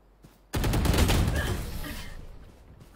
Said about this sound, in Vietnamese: Thằng Neon bắn ảo nhờ